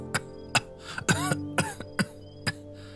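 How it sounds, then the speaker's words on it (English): A man coughs wetly in a spray of blood, several sharp bursts of hacking with throaty, strained breaths between them, close and alone. "Crow coughed a spray of blood."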